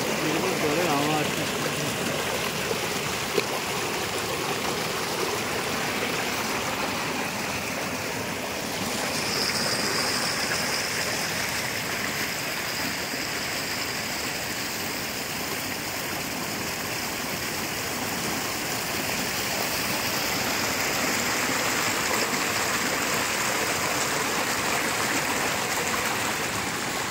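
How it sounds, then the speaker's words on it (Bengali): Stream water flowing through an orange garden in Pelling, Sikkim, a steady broadband rush heard close and continuous throughout, with no clear speech over it. "জলের আওয়াজ।"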